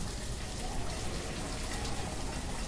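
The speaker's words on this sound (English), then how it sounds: "It's raining again." Rain falling in the city-building game Banished, a dense even patter of drops with no letup, steady and fairly loud, heard alone.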